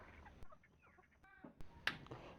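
Chickens being fed in the morning give faint, scattered clucks and short calls, with a few soft taps and clicks in a quiet setting.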